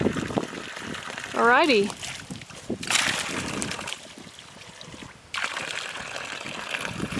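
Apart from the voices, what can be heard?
ice cold spring water being poured into a gourd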